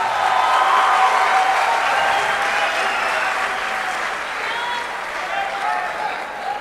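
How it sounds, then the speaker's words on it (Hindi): An audience at a shayari poetry event breaks into loud, sustained applause that gradually tapers off, with a voice talking over it. "दोस्तों तहजीब भाई के लिए भरपूर तालियां हो जानी चाहिए"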